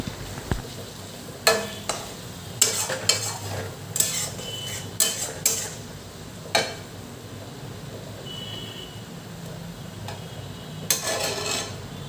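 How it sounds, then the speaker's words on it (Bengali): Mustard paste masala with pointed gourd cooks in a pan, a low sizzle under scattered metallic clinks and scrapes from stirring, fairly close and quiet. "যখনই মশলাটার থেকে এরকম করে তেল ছেড়ে দেবে তখনই বুঝতে পারবেন আপনার পটলগুলিও সিদ্ধ হয়ে গেছে"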